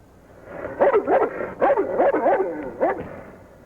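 A dog in a 1978 film yips and barks in quick uneven bursts, close and fairly loud, with short whimpering, howl-like rises between the barks and no speech over it.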